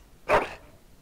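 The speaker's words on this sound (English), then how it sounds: "That is a wonderful dog." A single short dog bark rings out from a dog in the video game Dragon Age Origins, sharp and fairly close, followed by quiet.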